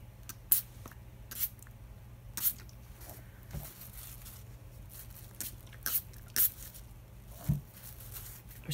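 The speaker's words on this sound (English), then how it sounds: "So I'm going to spray it over here lightly." Spray bottle misting water onto paper, with about eight short sharp sprays at irregular intervals, close and fairly quiet over a low background hum.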